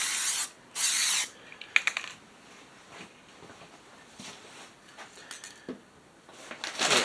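Apple red spray paint hissing from an aerosol can in a few short bursts, the first two close and strong, followed by quieter scattered hisses and light handling clatter.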